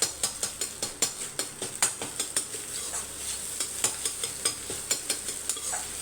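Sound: food frying in a pan while cooking egg fried rice

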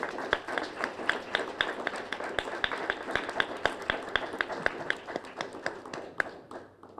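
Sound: audience applause

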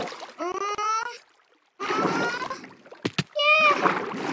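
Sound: splashing through water in a video game

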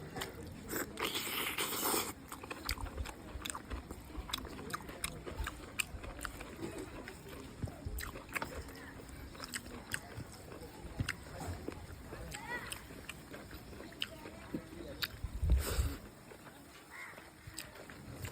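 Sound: chewing while eating mutton curry

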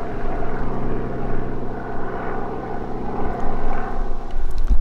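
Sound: police helicopter flying past

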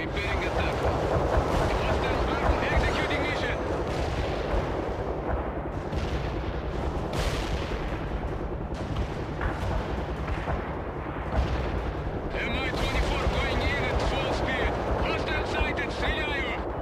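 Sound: heavy gunfire and artillery in World in Conflict video game

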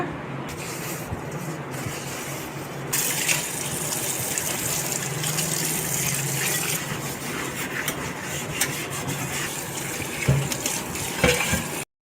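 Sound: washing an iron dosa tawa under running water

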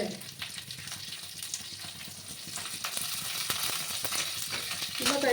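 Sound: cumin seeds and curry leaves sizzling in hot oil

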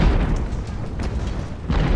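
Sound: artillery cannon fire in Ultimate Admiral: Age of Sail video game

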